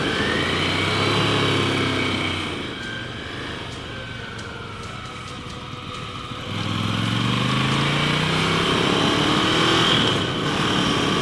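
Motorcycles pass close by on a hot off-road mountain descent, engines swelling loudly, easing off in the middle, then roaring again as more bikes ride past, with steady rumble throughout and no talk.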